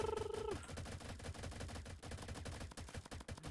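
Dual pistols blasting away in the video game CrabChamp, a quick string of sharp repeated shots in fast rhythm after a brief tone, close and fairly quiet overall.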